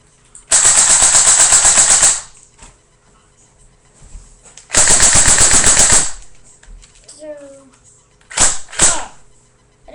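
An airsoft gun fires two loud, close bursts of rapid, even-paced shots, each lasting about one and a half seconds with a pause between. A few brief knocks and a short voice follow.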